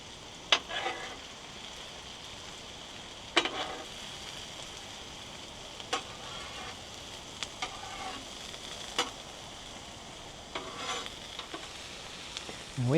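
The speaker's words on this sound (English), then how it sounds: "You just brown it up on the griddle with some onions and mushrooms and butter" Frozen burger meat browning with onions, mushrooms and butter on a 17-inch Blackstone griddle outdoors, a steady soft sizzle broken by sharp scrapes and clicks of a spatula on the flat top.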